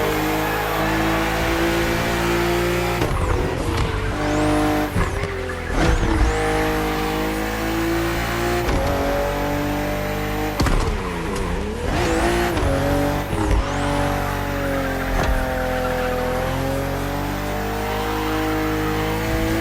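A BMW CSL marking BMW M's 50th anniversary races in The Crew Motorfest, its engine revving hard and loud throughout, pitch climbing and dropping through repeated gear shifts, with tire squeal and skidding mixed in.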